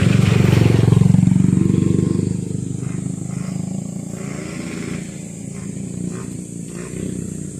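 A motorcycle engine idles close by with a steady vibrating rumble, louder at first and then settling, running alone without talk.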